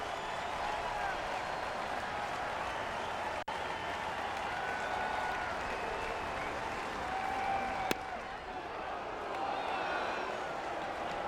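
Fans at a Cubs–Cardinals baseball game clap in a sustained, even roar from the stands, with a couple of sharp clicks and distant crowd voices mixed in.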